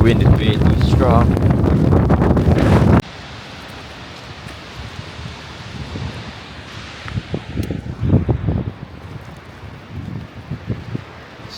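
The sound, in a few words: strong wind at Gullfoss waterfall, Iceland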